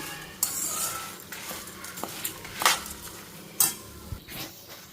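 A curry leaf spice powder mix is stirred slowly in a pan while roasting on low heat, with soft scraping and irregular metal clinks of the spoon against the pan over a faint sizzle.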